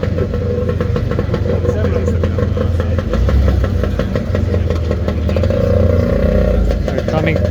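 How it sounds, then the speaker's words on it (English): A motorcycle engine rumbles behind a car on a Milan street, a continuous loud low drone with slight swells of revving, close and steady throughout, people talking faintly underneath. "That's the sound of the motorcycle behind it."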